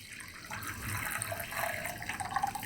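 Hot liquid poured from a height into the cold inner bowl of a preheated slow cooker while making lupin polenta, a steady splashing gurgle that builds and then continues for a few seconds, with no talking.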